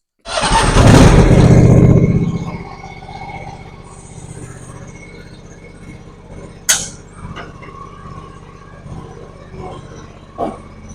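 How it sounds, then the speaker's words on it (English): A John Deere X590 lawn tractor engine cranks and catches with a loud burst, then settles into a steady low idle rumble, with a couple of sharp clanks later. "we're going to start the tractor"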